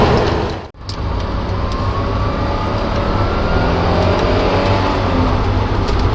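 A 1990 Renault Alpine V6 Turbo accelerating hard, a steady loud engine roar with turbo whine rising through the pull, a brief dip early on, then sustained from inside the car.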